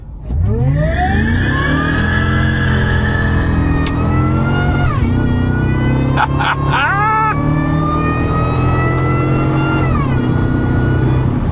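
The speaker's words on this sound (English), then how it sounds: "We're gonna go full bore to first gear." A 25-year-old supercharged truck accelerates at full throttle in first gear, its engine revving loudly and rising in pitch continuously, with a brief shift-like dip midway before climbing again, close and sustained throughout.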